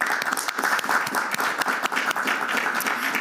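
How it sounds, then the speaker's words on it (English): Applause from the audience at a Davos panel session, a brisk patter of many hands clapping with an uneven rhythm that stays moderately loud throughout, with no talk over it. "a warm applause for you, sir, as well"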